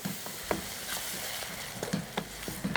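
Tomato paste frying in a pan with masala for a cauliflower curry, giving a soft, steady sizzle with a few brief stirring clinks and scrapes, faint and close, with no one talking.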